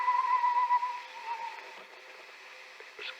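A single person whistles a sustained melodic tune somewhere in a building during a radio drama, faint and slightly distant, fading out after a couple of seconds into quiet room tone.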